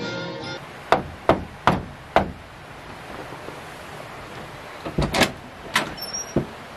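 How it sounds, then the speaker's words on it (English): Knocking on a door indoors: a cluster of four sharp raps, a pause, then another quicker burst of knocks, close and distinct against a quiet room. "Why the hell are you knocking?"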